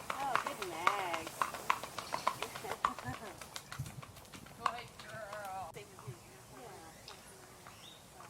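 Maggie the horse, ridden in a bitless bridle on a loose rein, gaits with quick rhythmic hoof clip-clops while a rider talks over them.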